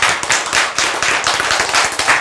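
Dense, steady clapping from a church congregation, loud and continuous with many hands overlapping in a brisk, even patter and no voices over it.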